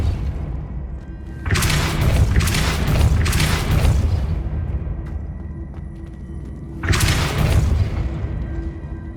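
Depulso spell blasts from Hogwarts Legacy, loud booming bursts in a rapid cluster of three followed after a pause by a fourth, each with a deep rumbling low end over steady background hum.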